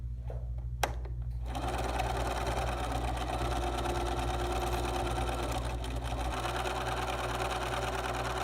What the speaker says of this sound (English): I'm going to drop my needle into my first dot and then I will begin sewing.